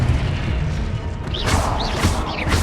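Confringo blasting spell in Hogwarts Legacy: bright whooshing bursts and booming impacts rising over a constant background din, several quick magical blasts in a row.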